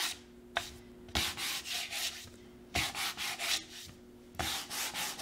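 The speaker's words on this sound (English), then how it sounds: "Okay, last little bit with sanding." Hand sanding of a painted MDF board: repeated rasping back-and-forth strokes in short bursts, with brief pauses and a faint steady hum behind.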